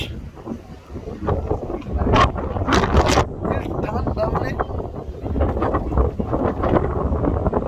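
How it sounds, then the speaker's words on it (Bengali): Strong gusty wind before a storm in a gajari forest in Bangladesh roars against the microphone, loud and continuous with surging gusts and rustling bursts, while someone talks. "প্রচুর বাতাস একদম আমার উড়াই নিয়ে যাইতেছে"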